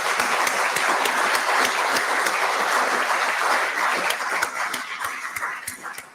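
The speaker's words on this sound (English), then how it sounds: "So please join me in a big round of applause for our panelists." Sustained, loud audience applause for the panelists at the close of an evening lecture on Byzantine Thessaloniki, dense clapping throughout that thins slightly toward the end.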